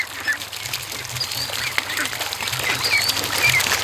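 Young ducklings peep and cheep in high, quick chirps over a low, steady background, close by and continuous, with no speech.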